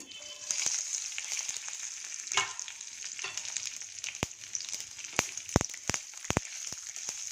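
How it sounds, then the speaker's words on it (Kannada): Mustard seeds, chana dal, urad dal, cumin, fenugreek and green chillies spluttering in hot oil for a sambar tempering: a close, steady sizzle broken by loud, sharp pops, denser toward the end, with no talking. "ಇದೆಲ್ಲ ಸ್ವಲ್ಪ ಚಟಪಟ ಅಂತ ಚಿಡಿದ ಮೇಲೆ ಸಾಂಬಾರಿಗೆ ಹಾಕ್ತೀನಿ"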